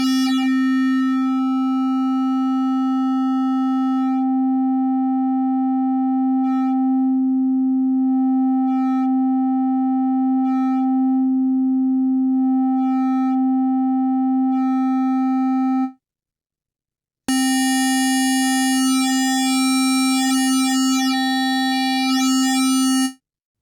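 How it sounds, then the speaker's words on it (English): Sustained synth tone from a Yamaha Montage M synthesizer with a wave folder modifier, a loud steady pitched drone with bright metallic harmonics, cutting out briefly before returning brighter and more buzzy. "Let's add a little bit of wave folder."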